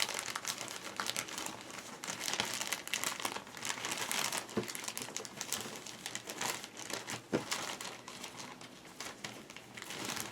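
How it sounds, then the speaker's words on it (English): Embroidery floss pushed into a plastic Ziploc baggie crinkles and rustles continuously and close up, with a few sharper crackles along the way. "Apparently I can't put anything in a Ziploc baggie."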